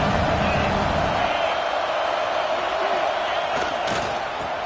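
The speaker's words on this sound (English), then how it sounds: "This crowd bringing the energy and noise early." A dense, steady roar of a large college football video game stadium crowd, loud and continuous, with swells of cheering and a few sharper shouts rising above the din.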